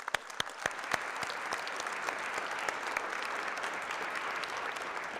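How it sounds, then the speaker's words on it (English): Audience applause at an adult basic education and high school equivalency graduation ceremony in 2023, a steady wash of clapping hands with a few sharp individual claps standing out early, sustained throughout without speech. "let's give it to our speakers a round of applause"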